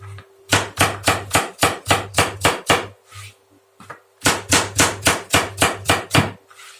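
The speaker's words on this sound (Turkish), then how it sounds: "İlk önce patateslerimizi doğrayarak işe başlıyoruz." A knife chops raw potatoes on a cutting board in a kitchen, a quick run of about ten crisp, evenly spaced knocks, a brief pause, then another burst of steady chops.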